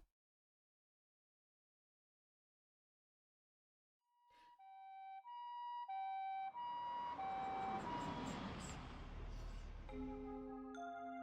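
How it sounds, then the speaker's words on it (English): An ambulance siren in a visual novel video game starts after four seconds of silence, wailing in alternating tones over a swelling engine-like rumble, loud and steady. "an ambulance pulled into the clinic parking lot"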